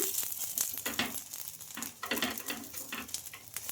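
Bread ponganalu fry in hot oil in a pan with a steady close sizzle, broken by soft stirring and turning taps at an irregular pace.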